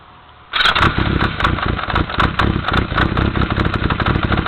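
A 1986 Yamaha Radian motorcycle engine with the enricher on fires up abruptly and settles into a loud, close, steady idle with a busy mechanical clatter.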